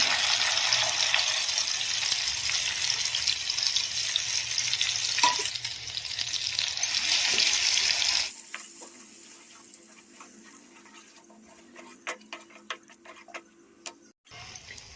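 Green chillies and masala paste frying in a pan, a loud steady sizzle for about eight seconds, then dropping to quieter crackles and scattered clicks.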